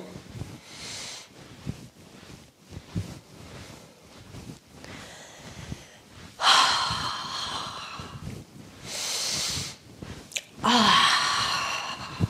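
Loud, deep breaths during a qi gong exercise session, several long audible inhales and exhales close by with quieter shuffling between, no talk over them.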